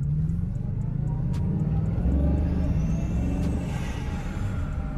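A Bugatti Chiron Super Sport's turbocharged W16 engine roars and rumbles continuously, heard from inside, with a rising whine as it accelerates hard.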